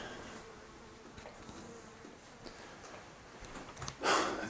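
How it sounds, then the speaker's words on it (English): Blowflies buzz faintly in an abandoned, decaying farmhouse room, a thin intermittent drone over quiet room tone, ending in a brief louder rustle or bump. "There is blowflies in every room."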